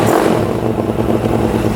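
A small four-stroke pocket bike engine revs hard and close, a rough buzzing roar that holds steady with a rattling edge throughout.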